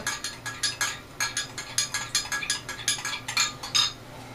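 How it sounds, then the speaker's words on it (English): A spoon stirs Sparkolloid wine-clearing agent, clinking against the container in a quick, steady rhythm of close, bright taps that repeats for several seconds. "going to give my Sparkolloid a good stir"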